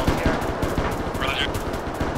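Rapid automatic gunfire rattles in dense bursts during a large 200-player PvP battle in the game Arma 3, loud and continuous with a voice talking over it.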